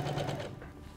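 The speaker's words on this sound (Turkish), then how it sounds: "tırnak ütüsünün üzerinden düz makine çekiyoruz" A sewing machine straight-stitching over a folded edge of linen and lace appliqué, a brief close mechanical whirring run that eases slightly toward the end.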